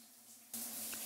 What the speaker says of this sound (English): I'm standing in the bathroom with the shower running in the background.